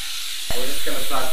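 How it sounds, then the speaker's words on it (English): Venison and mushrooms hit a hot pan with a sudden loud hiss that then continues as a steady, close sizzle over about a second. "We're just going to saute these for a few minutes so the mushrooms start to get cooked and nice and soft, and the meat will brown around the edges."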